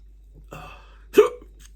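A single wet slurp of beer, a double IPA, being sipped, short and close, following a quieter breathy intake.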